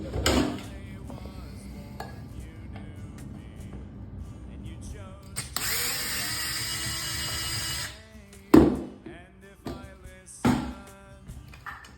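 Old bathtub spout being unscrewed and wrenched off a PVC pipe, sharp metallic clanks and knocks, a sustained grinding scrape, then a few heavy close thuds, with no talking.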